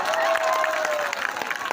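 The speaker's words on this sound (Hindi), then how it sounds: "ताली वाली कायदे से बजाओगे तब मजा आएगा" Crowd at a mushaira clapping steadily, a dense spread of applause with scattered louder claps, carrying on beneath a faint lingering tone, fairly close and full.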